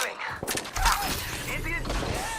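Gunfire crackles in Apex Legends during a firefight, quick bursts of shots and impacts layered under a player's voice talking, close and fairly loud, with sharp transients scattered across a couple of seconds.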